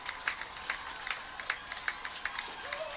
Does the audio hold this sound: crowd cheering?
yes